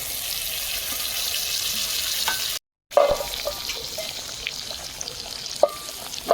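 Two fish pieces fry in hot oil with spices, giving a steady, close crackling sizzle that cuts out briefly, then resumes with occasional clinks of a utensil against the pan.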